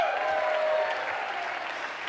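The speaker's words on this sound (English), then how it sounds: "Give yourselves a round of applause." An audience at a PechaKucha conference opening breaks into applause, a dense wash of clapping hands that holds steady for about two seconds before starting to ease off.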